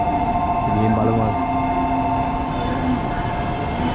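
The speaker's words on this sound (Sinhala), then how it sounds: "මේ Hayabusa Shinkansen එක මේක මේ තියෙන මෙතන ලියලා පැය කිලෝමීටර් 320ක වේගෙන් යනවා" A Hayabusa Shinkansen high-speed train at a Japanese station platform gives a steady rumbling hum with a sustained tonal whine, heard close and continuous beneath faint background voices.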